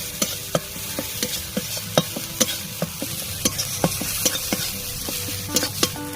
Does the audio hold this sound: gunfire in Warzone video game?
no